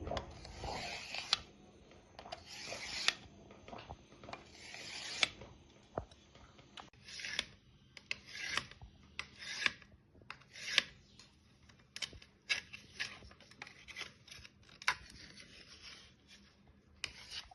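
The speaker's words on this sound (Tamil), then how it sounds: "ப்ளூபெர்ரிய நம்ம வச்சிருக்கிறத இப்போ அதை ஜல்லி மாதிரி ஆக்குனதை சின்ன சின்ன பீஸாக நான் இப்போ கட் பண்ணுதேன்" A knife cuts set blueberry agar agar jelly (kadalpasi pudding) into small pieces, giving quiet, repeated short scraping strokes in an uneven rhythm with brief gaps between cuts.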